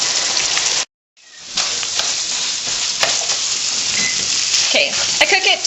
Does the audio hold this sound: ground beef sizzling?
yes